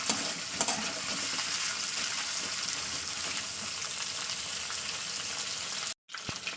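Fish sizzling steadily in hot oil in a pan, a loud, dense frying hiss that continues almost without a break before cutting out briefly near the end.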